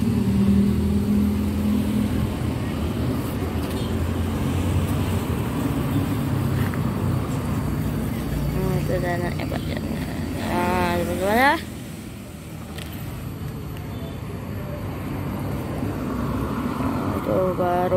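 Morning traffic rolls along the Trans-Sumatra highway, a steady dense roar of passing vehicles with a louder vehicle surging by near the middle, while someone talks over it throughout.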